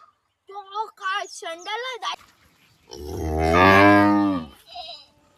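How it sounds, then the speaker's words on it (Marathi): A neighbour's cow on a farm lets out one long, loud, close moo after someone speaks briefly; a shorter call follows at the end. "ही आमच्या शेजारच्यांची गाय आहे, जी बघा किती खतरनाक ओरडती"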